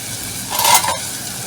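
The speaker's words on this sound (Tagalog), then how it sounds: "kapag medyo translucent na yung ating sibuyas, ilalagay na natin yung ating binabad" Beef soaked in soy sauce and calamansi dropped into a pan of frying onions, giving a brief loud close sizzle with a stirring scrape over steady pan crackle.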